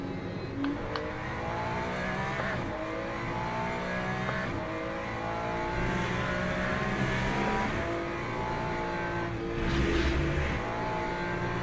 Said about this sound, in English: The Aston Martin does sound good when you're up next to it.